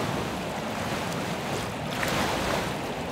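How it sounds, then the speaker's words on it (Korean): Strong ocean surf rolls and crashes steadily against concrete beach stairs and a retaining wall on an eroding sandy beach, a dense, continuous roar mixed with wind noise and no voices. "계단과 옹벽까지 파도가 거세게 몰아친다."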